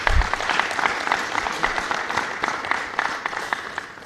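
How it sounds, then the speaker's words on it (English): Audience at a UNDP public forum on parliament oversight gives another round of applause, a steady field of many clapping hands with distinct claps standing out, continuous throughout. "I think we can give them another round of applause."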